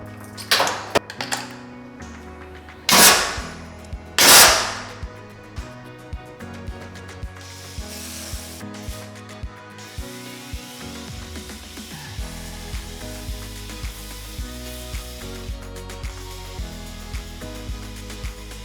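Several sharp hissing bursts of car wash foam from a foam cannon early on, close and loud, followed by a steady background of quiet tonal music with light tapping.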